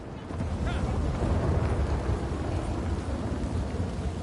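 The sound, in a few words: thunder and rain in the video game Red Dead Online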